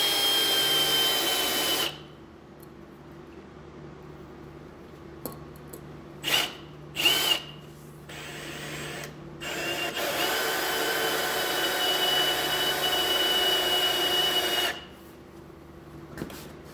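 A power drill with a 1/4 inch bit boring into metal during a rear main seal repair on a Cadillac Eldorado Northstar engine, whining steadily for long stretches and broken by short pauses and a few brief bursts, close by, with no talking.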